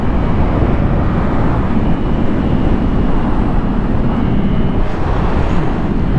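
A Yamaha MT-07 motorcycle engine accelerates hard, a loud, steady, dense roar filling the whole stretch with no talking.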